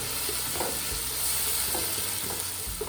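A spoon stirs tomato, chili, garlic paste, ginger and curry leaf paste for a Sri Lankan crab curry in a hot pan, with a steady close sizzle and soft scraping strokes throughout.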